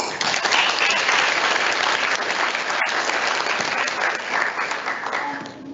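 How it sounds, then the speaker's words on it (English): Sixth-form school audience applauding debating society speakers at a public speaking competition, a dense, sustained burst of many hands clapping close by, holding steady and then tapering off at the end. "So please give them a round of applause."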